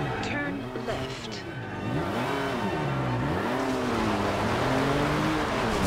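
A race car engine in the Forza Horizon 2 video game revs and shifts with repeated rising and falling pitch sweeps, steady and loud, with people talking over it.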